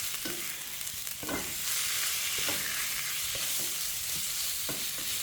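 Pork neck stir-frying with dried chilies in a hot pan, a steady broadband sizzle broken by several sharp scraping strokes of a spatula at roughly even intervals, close and fairly loud, with no talking.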